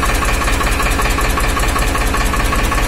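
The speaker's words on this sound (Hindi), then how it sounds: "फार्म ट्रैक 65 EPI, किसानों का ट्रैक्टर है।" A Farmtrac 65 EPI tractor diesel engine idles loud and close, a steady heavy knocking chug that runs without a break or change.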